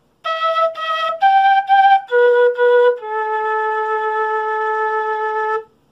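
A quena flute plays the opening phrase of a song: paired repeated notes stepping up, then a long held final note, clear and close with no talk over it.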